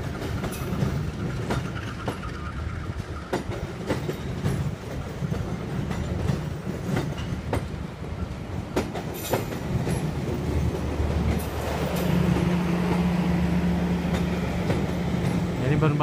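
A train hauled by an HSD diesel locomotive passes in Indonesia, a loud continuous rumble with rail clatter and a rising engine drone toward the end.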